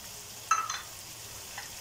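Achari bhindi masala fries in a pan as it is stirred, one sharp scrape of the spoon followed by a short sizzle, then a quieter stir against a low background.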